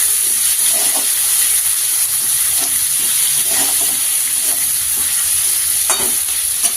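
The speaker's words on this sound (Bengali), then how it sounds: "পেঁয়াজটা একটু ভেজে নিই।" Chopped onions frying in a pan at home, a steady loud sizzle with occasional stirring scrapes running throughout, no voices.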